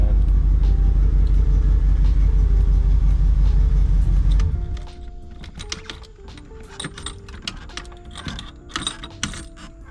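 Deep, steady idle of a 1968 Cadillac Coupe de Ville V8, loud and close, cut off partway through, followed by quiet ticking and clinks after shutdown.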